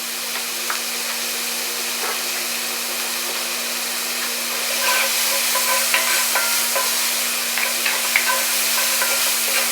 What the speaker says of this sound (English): Get my shallots up in there, y'all. We're gonna go ahead and mix this up for about 30 seconds.